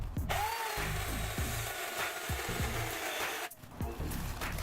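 An electric pole chainsaw on an extension stick cuts into a dead tree tangled with vines, giving a steady close motor whine with rough, repeated bursts of chain biting wood, briefly dropping off near the end before resuming.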